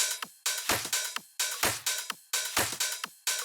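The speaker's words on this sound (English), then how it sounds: "I'm going to take the kicks out so you can hear the cymbals and the clap." Sharp drum-machine claps and bright, hissy cymbal hits repeat in a steady groove with no kick, dry and punchy, each burst decaying quickly.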